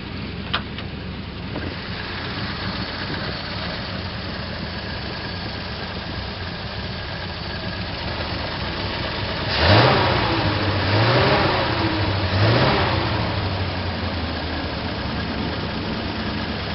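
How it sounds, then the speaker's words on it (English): A 1941 Ford 85 HP flathead V8 idles smoothly and steadily on all cylinders, then gets a few quick revs that rise and fall before settling back to idle, close and clear. "Flathead runs on all the cylinders, runs smooth, was smoking a bit"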